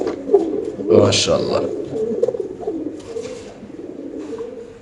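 Pigeons coo at a pigeon farm, soft throaty rolling calls repeating close by, mixed with someone speaking over them.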